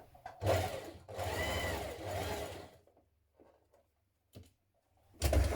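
A sewing machine stitches a dart in the fabric of a camisole on a slightly smaller stitch, running off the fabric edge, in two bursts of steady whirring with short pauses and faint handling sounds between them.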